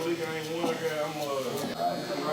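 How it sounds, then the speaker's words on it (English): A TPOB X hair trimmer straight out of the box, with no zero gapping, runs with a steady electric buzz under continuous nearby talking. "now we're gonna go in with the X trimmer"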